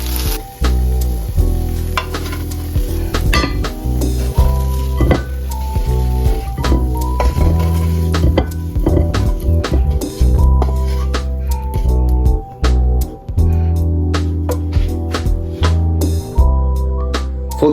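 Chicken sizzles and fries steadily in a pan for a burrito filling, with a continuous crackle broken by frequent clinks and scrapes of a utensil against the pan.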